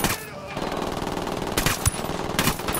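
Automatic gunfire rattles in Tom Clancy's Ghost Recon Wildlands, a dense continuous clatter of shots with a few sharper cracks standing out, loud and near, while a player's voice talks quietly over it.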